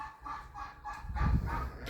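Geese honk a few times in quick, nasal calls, close by, ending in a louder, lower flurry of honks.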